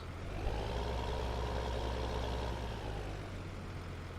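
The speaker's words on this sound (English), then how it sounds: "I've got our Hurleman yard tractor." A Hurlimann yard tractor engine in the Farming Simulator 15 video game runs at a steady idle, a constant low droning rumble with no change in pitch.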